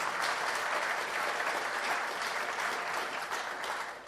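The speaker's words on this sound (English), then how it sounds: "round of applause" Audience applause at a PyCon UK 2015 conference opening plenary, a dense, steady round of clapping from a large crowd that holds loud and even for about four seconds, easing slightly at the end.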